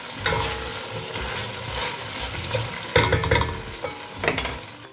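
Chicken pieces sautéing in a pan with asparagus, giving a steady close sizzle and frying crackle with stirring scrapes and clatters throughout, and no talk.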